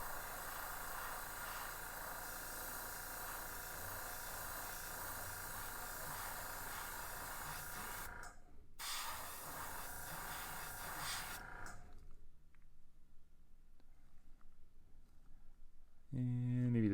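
An airbrush sprays paint onto a fire tiger fishing lure, a steady close hiss running for about eight seconds, cutting off briefly, then resuming before fading to near silence with a faint tap at the end.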